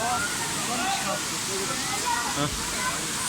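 Water splashing and rushing at the base of Sabun Çayı waterfall in Düziçi, Osmaniye, a steady close wash with a few sloshes as a hand dips in, under occasional voices.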